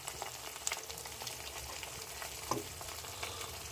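Tomatoes simmer in a pan with turmeric and salt for Bombay chutney, giving a steady, close frying sizzle that runs throughout with small crackles and a brief stir-like clatter near the end.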